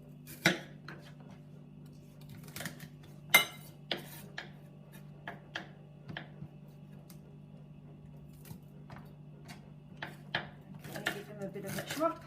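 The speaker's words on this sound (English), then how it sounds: "so the celery, just slice through this all quite rustically" A knife slices rustically through celery on a board, giving irregular crisp taps and clicks scattered throughout, fairly quiet under a steady low hum with a person talking.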